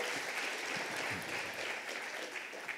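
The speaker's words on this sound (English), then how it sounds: "So please, everyone give a warm final round of applause for our deep crawl speaker." Warm final round of applause from an audience at a search-marketing conference talk, a steady dense wash of clapping filling the room for the whole stretch.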